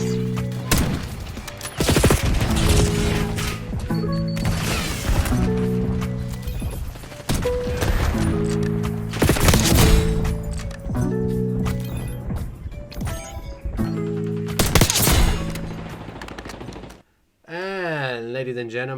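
Repeated sharp cracks of LR 7.62 sniper rifle fire in a Search and Destroy video game match, loud and close, with steady bursts of shots across the span and game music tones near the end.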